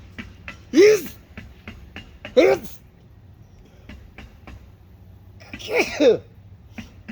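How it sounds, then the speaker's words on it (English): Three separate sneezes, loud and close, spaced out with quiet pauses between them and faint clicks and background noise. "Oh, okay, sneezes."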